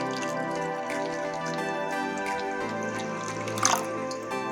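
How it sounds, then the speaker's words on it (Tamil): Water pours into aloe vera juice in a steady ringing stream whose pitch shifts as the vessel fills, with a brief splash near the end. "இப்போது இந்த கற்றாழை ஜூஸ் கூட நம்ம இன்னும் கொஞ்சம் தண்ணி ஆட் பண்ணிக்கலாம்."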